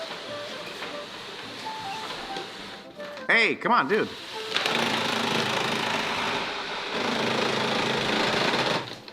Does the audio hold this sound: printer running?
yes